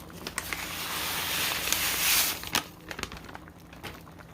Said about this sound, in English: now I'm just going to pour both of those rice mixes in there.